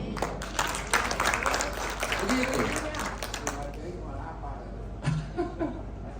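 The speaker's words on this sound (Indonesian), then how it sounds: "Tepuk tangan." A church congregation applauds during a sermon in Indonesian, a moderate wash of clapping that gradually fades, with scattered voices and a little laughter mixed in toward the end.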